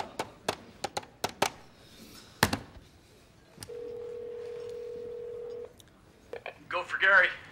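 A telephone being dialled on a TV comedy set: a quick run of separate key beeps, a steady tone held for about two seconds, then a brief burst of ringing, with faint movement and talk in the background.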